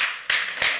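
Audience at an artist's talk and discussion clapping, a brief burst of close, sharp hand claps in a few quick swells.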